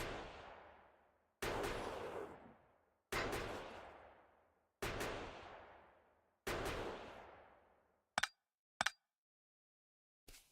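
Sniper turrets firing in Factorio, four heavy evenly spaced booms each decaying into a long rumbling tail, followed by two short sharp clicks and a faint final shot.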